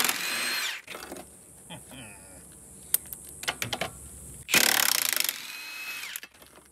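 Electric drill whirring in short bursts while a VW Beetle's body and chassis are being torn down in a workshop, with loud close spin-ups near the start and middle separated by clicks and clanks.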